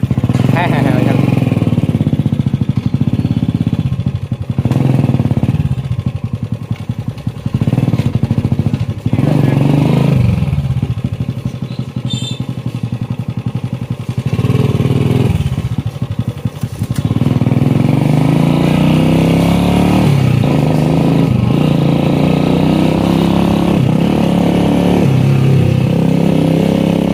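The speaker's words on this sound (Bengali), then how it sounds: "তো ওইখান থেকে হুইলি স্টার্ট করবেন" A motorcycle engine revs in repeated bursts and drops back to idle, close and loud, as a rider starts a wheelie, with people talking between and over the revs.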